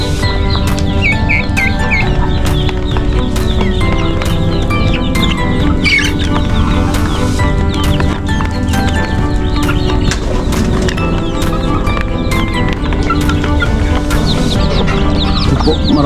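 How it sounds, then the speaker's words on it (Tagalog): Chickens and chicks clucking and cheeping together at close range, a loud, continuous flock chatter with overlapping calls, busy farm noise throughout and no talk over it. "pag po nagsilaki na itong mga sisiw po, medyo marami-rami na po sila."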